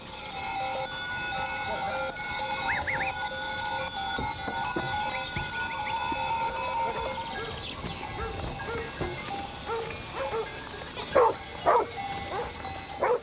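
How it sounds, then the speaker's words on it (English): Herding dogs barking in short bursts as they move with a goat herd into the mountains of Peneda-Gerês National Park, Portugal, the yaps coming mostly near the end over a steady outdoor background with faint bells. "the herd are accompanied by 4 dogs into the mountains"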